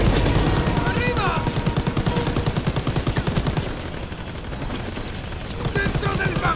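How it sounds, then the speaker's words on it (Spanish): Rapid machine-gun fire in the Call of Duty WW2 campaign during a battle aboard a train. Dense, loud bursts of automatic fire continue almost without a break, with a short lull near the middle and shouted voices underneath. "¡Tienen más! ¡Ametralladoras!"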